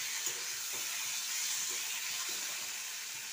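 Spice paste sizzles steadily in hot oil in a pan for a Bengali rui fish curry, a continuous hiss with faint scattered stirring sounds and no talk.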